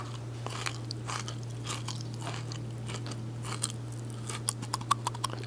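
A crunchy snack eaten up close in mukbang style, with a run of crisp bites and chewing crunches that grow sharper toward the end over a steady low hum, and no talking.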